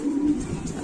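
Lahori and Sirazi pigeons at a fancy pigeon farm give a short, steady, low throaty coo at moderate volume from close by, with no voices.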